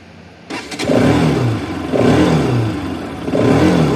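A Bajaj Pulsar 200RS motorcycle, one month old, starts with a sharp catch and then revs up three times in succession, each rise falling back toward idle, close and loud with no talking.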